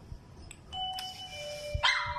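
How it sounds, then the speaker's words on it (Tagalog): A doorbell sounds its ding-dong chime, and moments later a dog answers from nearby indoors with a loud yowling howl. No one speaks. "Pag nagdo-doorbell ako, sumasagot yung aso, umalulong, ulitin ko."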